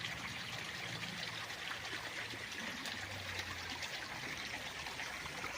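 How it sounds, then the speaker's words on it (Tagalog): Creek at the edge of a farm lot in Siniloan, Laguna, a faint steady trickle and wash of flowing water, continuous with no voices. "Itong sapa na itong ating kinaroonan ngayon."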